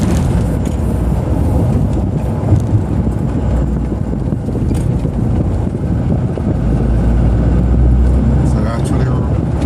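A car rolling along in its last, highest gear: a loud, steady engine drone blended with road and wind roar, continuous and unchanging throughout.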